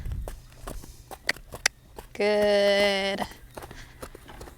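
Hoofbeats of a mare trotting on a circle at liberty, soft rhythmic footfalls at moderate distance, with a person's voice speaking briefly and a brief tonal whistle-like sound in the middle.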